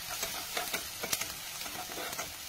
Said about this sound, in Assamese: এতিয়া মই এটা কেৰাহীত তেল গৰম কৰি ল'লোঁ আৰু ইয়াক সৰু সৰু টুকুৰাকৈ কাটি লোৱা পিঁয়াজখিনি ইয়াতে মই অলপমান ৰঙচুৱা হোৱাকৈ ভাজি লৈছোঁ